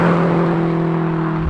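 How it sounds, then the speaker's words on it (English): A turbocharged Honda Civic Type R EP3 making about 420 bhp pulls hard at high revs, a loud steady engine drone with a strong held tone heard from inside the car, with no talk. "once you get up in the revs and the turbo is fully spun up, mate, it pushes me back so far"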